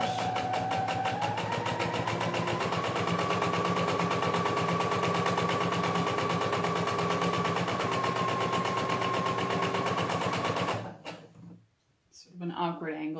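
A sewing machine stitching an elastic loop fabric mask, a fast continuous mechanical whirring and clatter with a steady motor tone for about eleven seconds, close and loud, then stopping, followed by faint speech.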